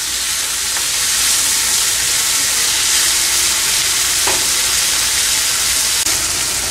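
Onion and tomato masala for a Chettinad egg curry fries loudly in a pan, a dense, steady sizzle and hiss close by, with a few faint stirring scrapes under it.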